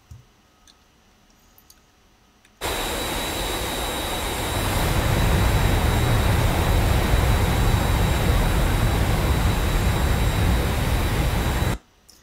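MiG jet in flight in a flight game: a loud, steady roar of engine and rushing air that starts abruptly, holds for about nine seconds and cuts off sharply.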